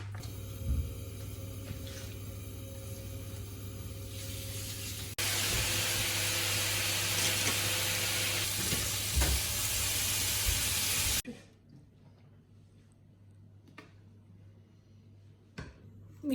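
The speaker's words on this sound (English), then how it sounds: "I'm just gonna start frying this now" Loud broadband hiss and sizzle of chicken frying in a hot pan, swelling sharply for a few seconds before dropping to a faint crackle.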